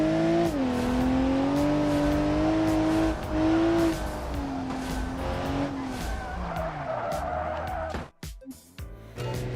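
A car engine held at full throttle in BeamNG, a loud sustained high rev with pitch rising and dipping through gear changes and a hint of tire squeal, cutting off abruptly near the end.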